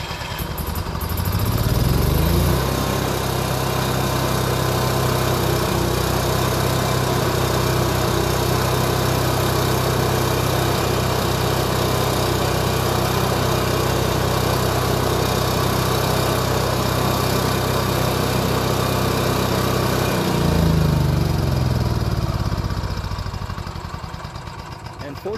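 An Onan 4000 generator in a Class C RV cranks and catches, then runs as a loud, steady, close engine drone with a low hum before winding down near the end.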